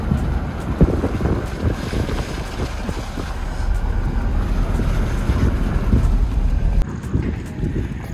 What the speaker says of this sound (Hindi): देखो बेहतरीन हवा चल रही है